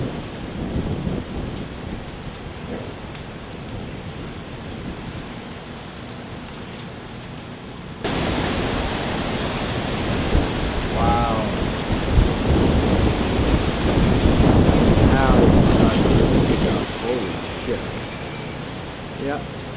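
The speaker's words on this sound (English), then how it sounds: "The beginning of the actual hurricane wind. I hear it coming." Hurricane Irma outdoors: steady heavy rain and roaring wind that grows louder partway through, with gusty surges and a constant broadband rush, while someone talks briefly over it.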